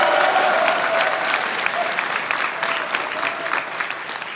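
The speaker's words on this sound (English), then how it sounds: "There you go, you can applaud Texas, that's okay." An audience at a talk on gun rights breaks into steady applause, a dense, moderately loud patter of many hands clapping that tapers slightly over a few seconds.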